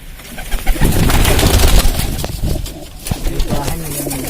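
A wild pigeon at a long-kept loft in Lucknow, cooing among dense nearby rustle and clatter, with a person talking through it.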